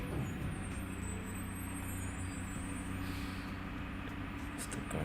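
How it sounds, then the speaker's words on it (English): Heavy garbage trucks passing outside, a steady low engine rumble with air-brake hiss, continuous and moderately loud throughout. "It's the garbage trucks."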